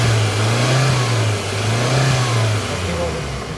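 A Suzuki Cultus EFI engine revs steadily as the accelerator is pressed, a close, loud mid-pitched drone that rises and falls slightly over a few seconds with no talk.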